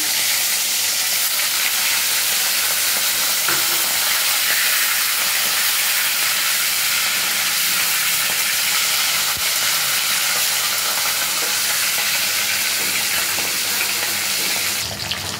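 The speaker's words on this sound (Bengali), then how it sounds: "তেল গরম হয়ে গেছে, মাথাটা আমি দিয়ে ভেজে তুলে নেব।" A fish head fries in hot oil in a kadai, giving a steady, dense sizzle that holds at an even loudness for the whole stretch with no talking.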